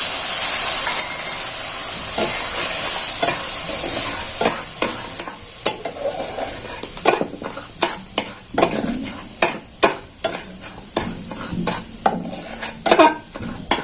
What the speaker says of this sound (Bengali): এখানে আমি চিনিটা দিয়ে দিচ্ছি ক্যারামেল করে নেব এখানে অল্প এক চামচের মতো জল দিয়ে দিচ্ছি